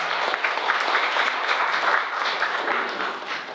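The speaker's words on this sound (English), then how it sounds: "A round of applause for Simon here." Steady applause from a Bitcoin meetup audience in Beijing after a speaker, a dense wash of clapping that holds throughout at an even level before tapering slightly at the end.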